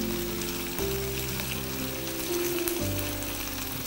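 Onions frying with ginger garlic paste in a pan for a chole masala, a dense steady sizzle throughout, close and fairly loud, over a low kitchen hum.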